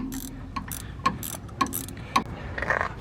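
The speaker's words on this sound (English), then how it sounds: "I have a ratcheting wrench and this 14 mil nut that goes up top here." A ratcheting wrench turns a 14 mm nut on the front shock mount of a 2008 Ford F350, giving a run of quick, close metallic clicks in an uneven rhythm, with no talk.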